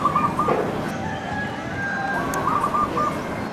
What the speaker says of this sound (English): It is called korokotok in Bisaya in reference to its soft cooing call